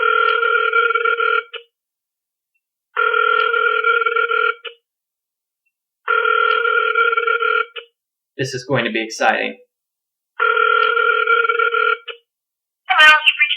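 An outgoing phone call rings four times in a long, even two-tone pattern, with silent gaps between rings. A person speaks briefly in one gap and again at the end.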